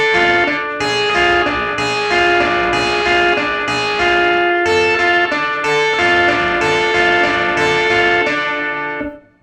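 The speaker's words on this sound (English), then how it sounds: "we come in with this really cool minor little arpeggio here," Electric guitar picks a minor arpeggio in rolling triplets from a 1956 song, loud and close with a slightly distorted tone, phrases repeating in a steady groove until the final notes fade out.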